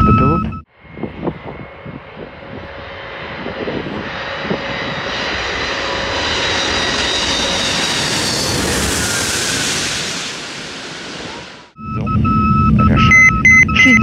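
A large multi-engine Antonov An-225 Mriya cargo aircraft landing at Hostomel, a loud sustained engine roar and rumble that swells and fades over about eleven seconds, with cockpit noise and brief beeps at the end.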